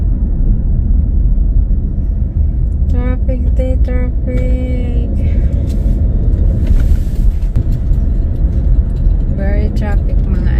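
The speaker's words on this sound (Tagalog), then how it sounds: "Traffic." Car driving through road traffic, with a steady low engine and road rumble throughout; a person talks over it for a few seconds partway through.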